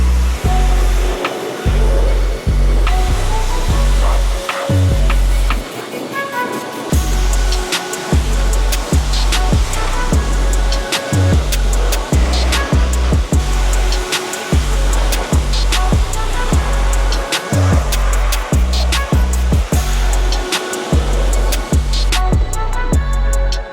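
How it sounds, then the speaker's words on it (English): Steady loud water spray rinsing soap off a truck's fuel tanks and wheels, a continuous close hiss and splash pulsing as the stream sweeps across the metal, with no voices. "I'm gonna start rinsing the tanks first and the wheels first, just to kind of move that soap off of there"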